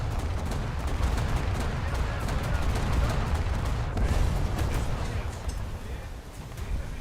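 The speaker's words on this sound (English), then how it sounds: "Oh, they're shooting at me" Heavy naval gunfire from enemy warships in War Thunder naval battle, a dense rumbling barrage of repeated booms and shell impacts continuing throughout, loud and sustained with low thundering energy.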